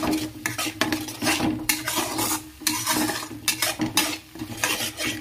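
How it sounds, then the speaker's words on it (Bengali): A spice paste with chilli powder is stirred and fried in a pan for a snakehead fish-head curry, with brisk rhythmic spatula scrapes over a continuous oily sizzle, close and fairly loud. "এবার সুন্দর করে এটা কষাতে হবে।"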